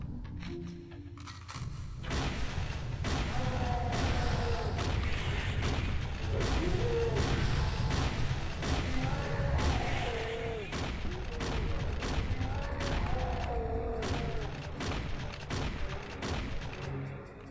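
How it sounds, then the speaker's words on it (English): Repeated shotgun blasts boom out in a modded Turok shooter game, sharp evenly spaced shots across the stretch over a steady background rumble, with a voice speaking in between. "This is just shotgun."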